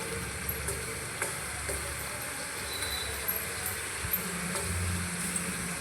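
Masala kadle beeja dough pieces fry in hot oil over a low flame, giving a steady, close sizzle with small scattered pops and crackles throughout.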